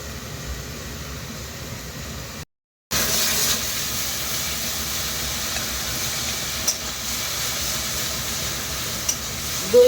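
Yogurt stirred into methi chicken frying in oil in a pan, giving a steady loud hiss and sizzle that cuts out briefly for a moment, then carries on evenly with faint stirring scrapes.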